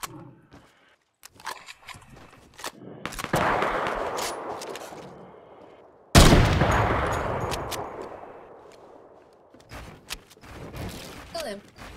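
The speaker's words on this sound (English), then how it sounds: "he can only spray" Rapid automatic gunfire sprays in a mobile shooter game, with loud sustained bursts and clustered shots over about twelve seconds, one sharp onset midway and scattered single shots near the end, while voices talk over it.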